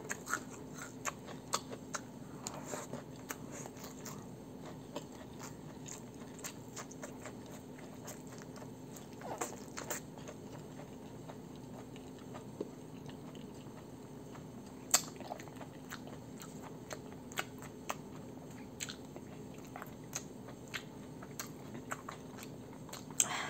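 Someone eats spicy crushed fried chicken (ayam geprek) up close, with soft, quiet chewing and scattered crisp bites and crunches repeating over a long stretch, and no talking.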